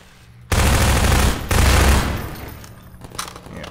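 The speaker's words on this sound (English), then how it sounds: "Open fire." Loud bursts of gunfire in the video game Half-Life 2: dense rapid shooting for about a second, a short pause, then another sustained volley that tails off into echoing decay.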